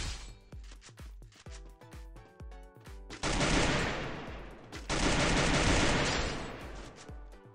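Rapid bursts of Free Fire gunfire, first quick single shots in a rhythm, then sustained loud automatic fire with a brief pause between volleys.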